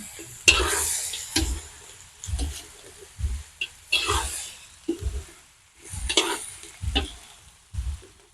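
Meat dropped into a hot pan for goat kaldereta sizzles and is stirred in repeated bursts of scraping and frying, close and moderately loud.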